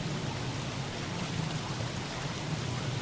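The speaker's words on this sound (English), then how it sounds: "It's raining frogs in the night!" Rain in the video game Don't Starve falls as a steady, dense hiss of droplets, an even wash of noise at moderate level throughout with no breaks and no voices.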